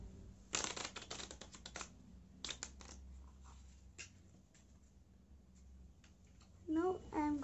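Quick riffling bursts of playing cards being shuffled for a card trick, a few sharp flutters and taps close by, with a voice starting to speak at the end.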